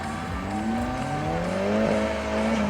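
A drift car's engine wails loudly and continuously at a drifting event, its pitch sliding up and down as tires squeal through a spin.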